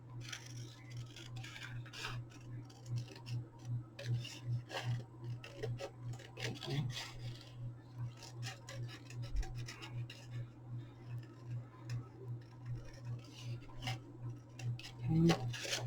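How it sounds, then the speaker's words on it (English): Scissors cutting out a paper craft piece for a Christmas project, with soft repeated snipping and rubbing strokes over a steady low hum, close and quiet throughout. "we're going to cut this out"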